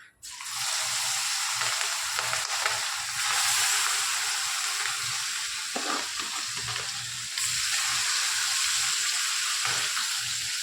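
Asafoetida, turmeric, tomatoes and chilies frying in hot oil for pauva bateta, a loud steady hiss that starts abruptly and holds, with a few soft stirring knocks and no voices.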